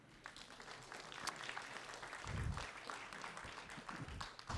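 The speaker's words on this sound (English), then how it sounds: "And hey, round of applause." Audience applause at a council candidates debate in Calgary's Ward 7, a steady wash of clapping from a seated crowd lasting several seconds, with a brief speaking voice near the start.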